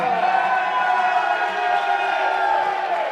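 Studio audience cheering and whooping at a live-taped wrestling show, a dense sustained crowd roar with high shouts, loud and continuous for the whole span.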